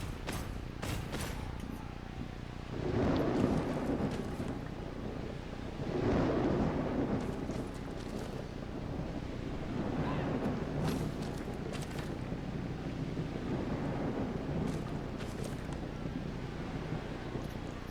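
Steady rain in the Blood Bowl video game, a continuous hiss with gusty, rumbling swells that rise and fall every few seconds, plus occasional faint clicks.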